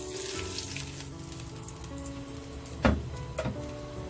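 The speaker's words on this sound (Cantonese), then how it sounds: "俾少少薑落去起鑊" Ginger pieces fry in a hot wok at the start of a shrimp and cucumber stir-fry, a soft steady sizzle broken by a couple of sharp clinks or scrapes near the end.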